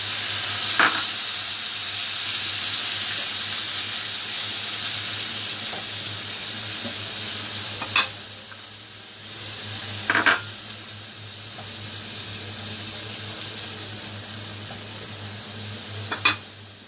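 Dried shrimps sizzle and hiss steadily in a hot pan for a turnip dish, with a few sharp clinks of stirring against the pan rising above the continuous frying.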